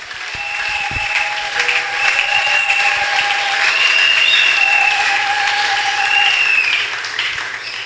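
Church congregation at a Kingasani assembly breaks into sustained applause mixed with shouted acclamations and whoops, loud and dense throughout, swelling in the middle before easing slightly at the end.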